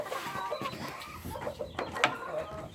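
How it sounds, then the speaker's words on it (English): Hen and young chicks clucking and peeping in a farm pen, several soft calls overlapping, with a sharper call near the end, all close by. "this is another load of chicks we got growing"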